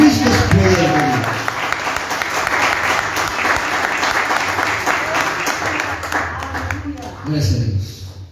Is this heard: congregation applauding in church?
yes